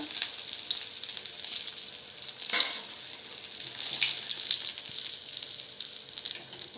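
Chicken pieces deep-frying in oil for chilli chicken, a continuous close bubbling sizzle with a couple of louder bursts as pieces are moved.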